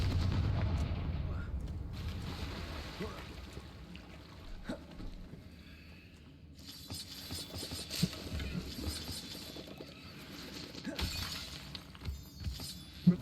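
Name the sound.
Confringo spell blast in video game Hogwarts Legacy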